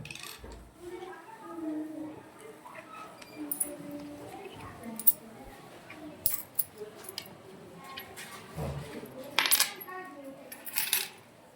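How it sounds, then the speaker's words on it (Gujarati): Two-rupee coins clink and drop as they are counted and handed over during a classroom money-counting exercise, scattered faint metallic taps under ongoing talk. "હવે 2 રૂપિયાના સિક્કાનો ઉપયોગ કરી અને 12 રૂપિયા પાવનભાઈને આપો."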